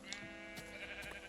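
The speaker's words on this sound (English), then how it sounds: "There's some sheep over here, I guess I'll give them a whack." Sheep bleating in Minecraft, several short wavering bleats at a moderate, slightly distant level, spaced across the moment with a quiet background between them.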